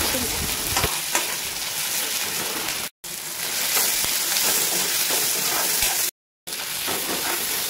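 Fish frying in hot oil in a home kitchen, a steady loud crackling sizzle with spattering pops throughout, broken by two brief silent cuts.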